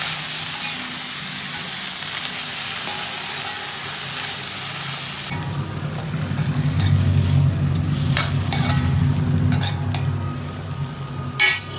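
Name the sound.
coriander leaves stirred in hot pan, stove off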